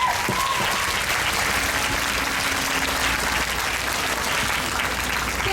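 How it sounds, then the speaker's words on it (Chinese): Sustained, dense applause from a large crowd at a flight attendants' union party celebrating the end of a strike, loud and even throughout with no pauses. "请大家给自己一个掌声。"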